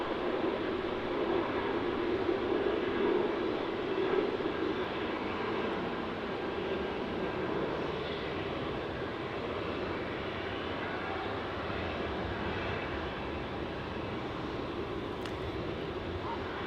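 An airplane climbs out of runway 16 at Melbourne Airport, its steady broad engine roar heard from a distance for the whole stretch, slowly fading.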